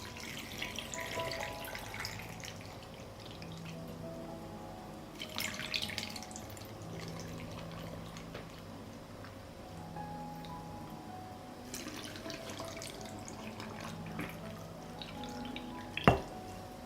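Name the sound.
water being poured into canning jars over tomatoes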